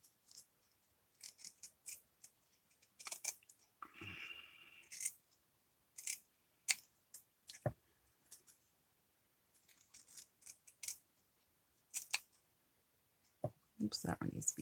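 Scissors snip repeatedly through paper petals being trimmed for a handmade peacock journal, the close, crisp cuts coming in irregular bursts with a short papery rustle in between.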